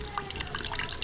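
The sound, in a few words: wet cloth being wrung out, water dripping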